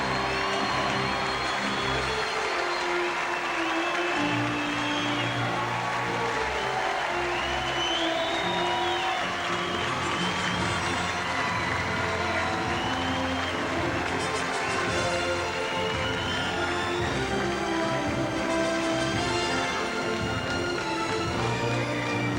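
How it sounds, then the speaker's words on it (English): A large crowd cheers and applauds at the close of the 2000 Olympic beach volleyball gold medal match between Pottharst and Cook and Behar and Bede, a dense, steady roar of voices and clapping that carries throughout. "Huge final cheer from the crowd."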